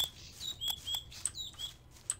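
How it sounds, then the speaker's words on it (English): Glitchy electronic chirping in the Gothic video game after the music drops out, a few faint, quick high tweets and squeaks repeating irregularly over near silence. "I got like a little chirping sound that sounded kind of like an audio chirp, as if something were completely glitched out"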